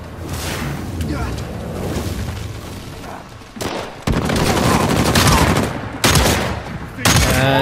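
Gunfire aimed at a Harbinger enemy in Uncharted 4 survival mode, loud sharp bursts that come in several separate clusters with short gaps, layered over background battle noise with a voice talking.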